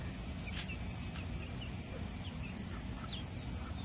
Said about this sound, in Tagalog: Ayan, ang ganda ng manok.